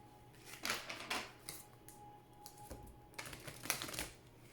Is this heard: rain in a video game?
no